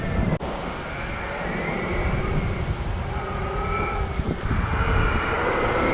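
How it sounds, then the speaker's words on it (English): Four DJI Mavic Air drones fly together outdoors, a steady loud whine of propellers and motors filling the whole stretch, with one brief dip near the start and no voices. "Four drone at the same time, no controller needed."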